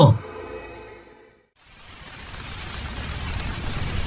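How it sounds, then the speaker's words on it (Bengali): Heavy rain on a stormy night starts after a brief tonal sound and a moment of near silence, then swells into a broad, steadily growing hiss of downpour. "মুষলধারে বৃষ্টি পড়ছে।"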